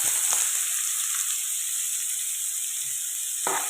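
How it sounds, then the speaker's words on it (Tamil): Sliced large onions sauté in hot oil with fennel and curry leaves for an egg masala, a continuous even sizzle heard up close with a couple of soft stirring knocks. "வெங்காயம் கொஞ்சம் வதங்கினா தான் தொக்கு மாதிரி வரும்"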